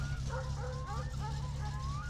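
A dog barking in My Summer Car, a short run of yapping barks over a steady low engine-like hum, fairly faint.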